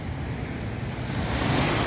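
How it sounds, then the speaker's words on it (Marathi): A dense, steady roar of water rushing from the open spillway gates of Manjara Dam in Beed, broad and powerful with no pauses and no voices. "चार दरवाजे उघडून पाणी सांडव्यातून बाजूला सोडलेलं आहे"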